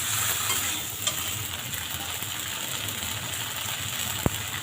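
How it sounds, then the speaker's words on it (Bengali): Okra sautéing in a pan for a mustard curry, a steady dense sizzle with faint stirring, one sharp tap near the end, no voices. "কিছু সময় কষাবো"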